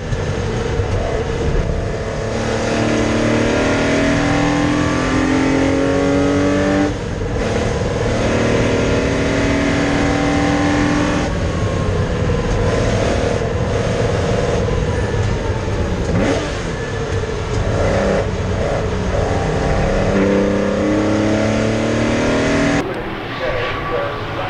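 Race cars competing in wet conditions at Donington Park, with loud, continuous engine roar and repeated rising and falling revs as the cars pass, plus commentary underneath.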